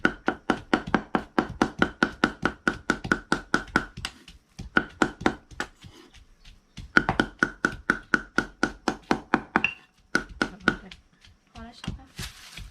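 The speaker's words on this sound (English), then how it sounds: "I'm gonna keep mincing the beef." Raw beef is minced with a knife on a board in a rapid, steady run of loud chopping strikes, pausing briefly twice before the rhythmic chopping resumes, with faint talk in the background.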